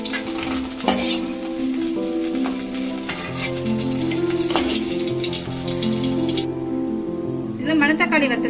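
Dried manathakkali berries frying in hot oil in a pan, a steady bright sizzle with occasional stirring clinks and a louder crackling burst near the end.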